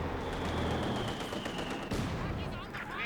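An anti-tank pack gun in a WWII strategy game shoots at an 85 while a Panzer IV moves in. The gunfire is sharp and close, set in dense, continuous battle noise with one heavy blast near the middle.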